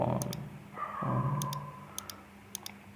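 Computer mouse clicks while working in Mastercam, several paired light clicks near the end, faint under a nearby voice talking at the start.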